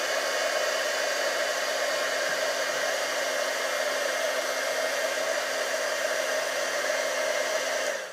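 A heat tool blows a steady, loud rush of hot air as it melts clear embossing powder over Mossy Meadow ink on an Easter card, continuing unbroken from start to finish with no voices.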